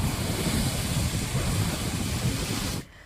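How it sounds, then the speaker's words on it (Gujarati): Rough, stormy sea on the Gujarat coast, with high waves surging in a continuous loud roar mixed with wind buffeting the microphone, before it cuts off abruptly near the end. "10 થી 12 ફૂટ ઊંચા મોજા ઉછળી રહ્યા છે"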